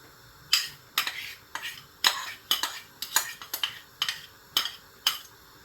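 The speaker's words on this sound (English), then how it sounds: "Give it a little stir" A spoon stirs Ofe Nsala white soup in a cooking pot, giving roughly a dozen sharp metallic clinks and scrapes at a loose, steady pace, close and clear, with nobody talking.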